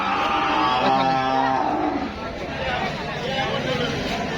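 Cattle on a farm, one long, loud, low moo close by, followed by fainter livestock sounds and a murmur of people talking in the background.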